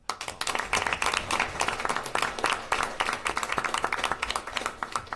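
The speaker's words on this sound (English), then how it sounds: "we definitely need a round of applause for" A room of people at a school committee meeting breaks into applause, a dense, steady patter of many hands clapping for several seconds at moderate volume.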